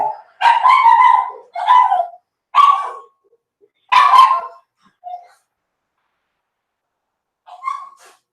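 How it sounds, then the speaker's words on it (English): George, a house dog, barks in a short run of loud, close woofs, four or five in quick succession, then a lone softer yip and one more bark after a pause. "And what's George barking at?"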